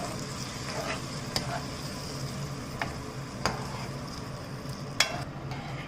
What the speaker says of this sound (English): I'm just going to mix them up together now